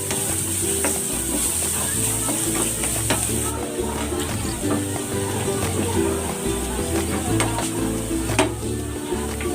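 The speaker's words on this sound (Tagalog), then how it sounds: "Magdagdag tayo ng konting mantika. Magigisa na tayo. Gisa na natin tong bawang." Garlic sautéing in a little cooking oil gives off a steady, close sizzle that continues for the whole stretch, with light stirring and utensil scrapes on the pan over a low background hum.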